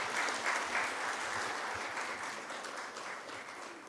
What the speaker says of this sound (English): So a round of applause for our wonderful,